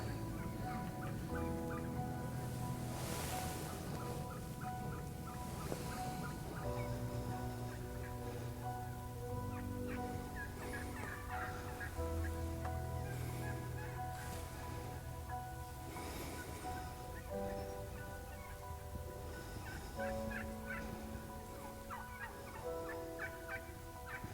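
Wild turkey gobbles from long-bearded toms in Nebraska ring out repeatedly across the field, loud and near, mixed with other fowl calls over a steady outdoor background.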